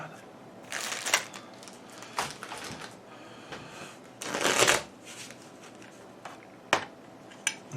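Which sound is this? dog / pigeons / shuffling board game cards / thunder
shuffling board game cards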